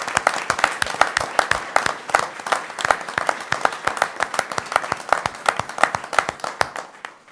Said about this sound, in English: let's give a big round of applause for Jeff Danley